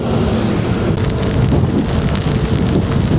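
Steady, dense rain pours down without pause, a broad hiss with scattered patters close by and no voices.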